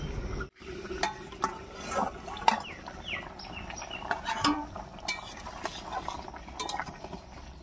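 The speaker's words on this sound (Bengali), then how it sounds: "এবারে ঢাকা খুলে নামিয়ে নিচ্ছি" A lid is lifted off a pot of thin fish curry with cumin, coriander and radhuni paste, followed by the pot being handled, with scattered metallic clinks and scrapes against a steady kitchen background hiss.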